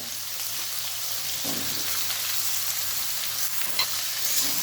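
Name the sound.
papaya and potatoes frying and being stirred in pan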